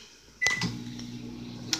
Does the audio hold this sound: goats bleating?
no